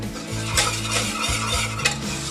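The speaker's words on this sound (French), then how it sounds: "Je laisse cuire un petit peu pour cuire la farine" A flour and butter roux for béchamel cooks in a pan, a continuous sizzle with rhythmic scraping strokes of a utensil against the pot and occasional clinks.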